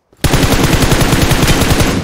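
Automatic gunfire in PUBG Mobile, a loud rapid burst of evenly spaced shots lasting about two seconds, close and alone without talk.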